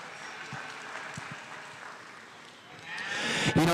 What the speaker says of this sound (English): let's give all these kids out here in the drive, even back at the barn stalls, a big round of applause.